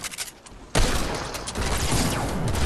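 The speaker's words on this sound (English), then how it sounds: "Oh, I'm getting shot from the back." Video game gunfire, scattered shots giving way to a sudden loud, continuous barrage of rapid fire that keeps going to the end, close and intense, no talking.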